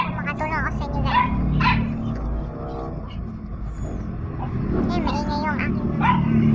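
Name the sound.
dogs barking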